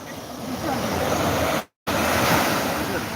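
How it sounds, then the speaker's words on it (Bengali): Incoming tide at Cox's Bazar at night, ocean waves washing in with a steady loud roar and wind hiss, broken by a brief silent gap midway. "এই যে দেখেন জোয়ার বাটা, দেখেন আপনারা কি জোয়ার বাটা আসতেছে"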